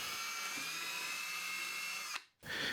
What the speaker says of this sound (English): drill for the throttle sleeve.